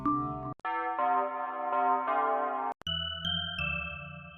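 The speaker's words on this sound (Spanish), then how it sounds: "Vamos a ver ahora campanas." Synthesizer bell presets from the Sytrus plugin in FL Studio ring out in sequence: a few sustained, chime-like tones with bright metallic overtones, separated by short gaps, each decaying slowly, with no voices.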